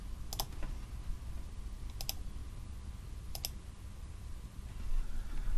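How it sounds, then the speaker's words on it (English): A computer mouse on a Windows 10 machine gives three sharp, close left clicks spaced about one and a half seconds apart over a low steady background noise, with no talking. "we want to left click on the W"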